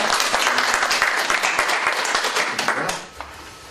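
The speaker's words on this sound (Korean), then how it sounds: "주님 앞에 영광의 박수 드리겠습니다." A church congregation gives a round of applause after a prayer: dense, lively clapping from many people that holds steady, then thins out and fades near the end.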